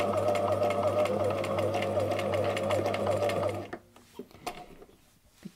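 A sewing machine stitches at its shortest stitch length, a steady, close mechanical whir with a fast rhythmic patter that stops abruptly partway through, followed by a few soft handling clicks.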